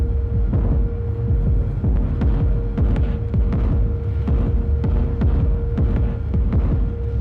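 A deep, reverberant kick drum thumps in a steady throbbing pattern over a low sustained hum, booming and close, with no talking.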